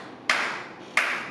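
Two sharp hand claps about two-thirds of a second apart at a church service, each ringing briefly in a reverberant room with no voices in between.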